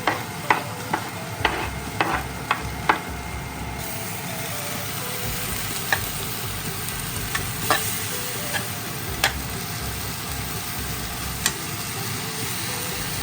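Onion-based masala being stirred and fried in a home kitchen pan, a steady low sizzle broken by clear, repeated scraping clicks of the spoon against the pan, close by with no talking.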